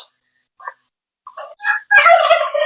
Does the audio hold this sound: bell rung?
no